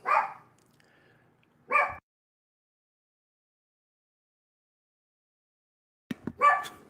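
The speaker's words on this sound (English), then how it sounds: "Sorry, my dog's barking" A small Yorkie dog barks in short yappy bursts, two sharp barks early, then a long silence and a final cluster of quick yips, fairly close and indoors.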